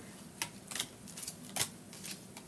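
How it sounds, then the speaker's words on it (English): Tarot cards being shuffled by hand at close range, with quiet, crisp riffling bursts coming in an irregular series of about half a dozen quick flicks, no talking. "I'm going to stop shuffling whenever Spirit says to"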